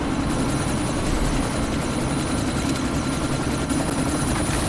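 A helicopter in Deus Ex: Mankind Divided drones with a steady, loud rotor roar that fills the whole stretch with no letup and no voices.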